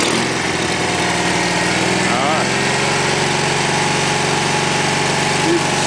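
A Cub Cadet 782 garden tractor with a hydraulic deck runs close by with a steady, loud engine drone that rises a little as it is revved. Voices come through over the engine.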